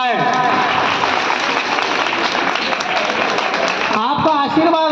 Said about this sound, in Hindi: पूरी बेटियां खड़ी होकर तालियां बजाकर मुझे आशीर्वाद प्रदान करें